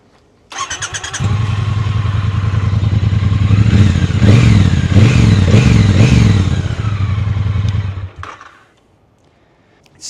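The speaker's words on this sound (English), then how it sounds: "And the sound of these bikes, standard, without any aftermarket exhaust." A Triumph T120 retro motorcycle with its standard, non-aftermarket exhaust runs close by, a steady throbbing engine note with a few quick revs in the middle before it cuts off near the end.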